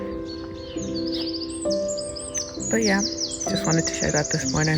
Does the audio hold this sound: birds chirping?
yes